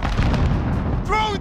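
A cruise missile strike detonates in the video game Call of Duty: Modern Warfare, a loud, rumbling blast with sustained low boom, followed by a brief tonal game voice cue near the end.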